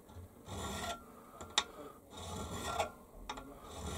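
A coarse file being worked across metal in a workshop, giving steady rasping strokes in a back-and-forth rhythm, about five close, moderately loud passes with brief clicks between them.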